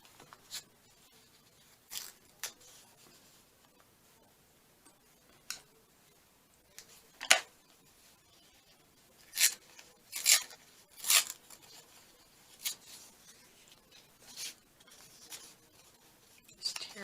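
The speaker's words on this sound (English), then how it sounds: "I'm going to have to cut through part of these where I stitched all the way across" Scissors cut through stitched paper pages of a handmade junk journal, making scattered short snips and rasping paper rubs at close range, separated by quiet pauses.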